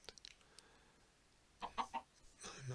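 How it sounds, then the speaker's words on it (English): A chicken in the video game Minecraft gives a few short clucks in quick succession, faint over quiet game ambience, followed by a softer sound, with no talking. "I'm not sure how the chicken got in here."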